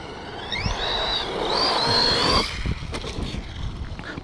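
An Arrma Outcast 4S V2 RC stunt truck's electric motor whines, pitch rising and falling over two seconds, then cuts to a rougher rumble with scattered crunches and thumps as the truck rolls on.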